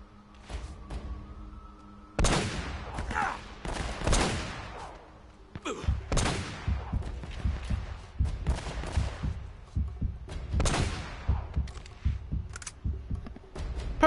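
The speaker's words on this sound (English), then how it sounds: "A wild gunfight appears." Gunfight gunfire in Uncharted: Drake's Fortune comes in several sharp bursts of shots and impacts after a quiet start, with loud clustered cracks separated by brief lulls and lingering echo.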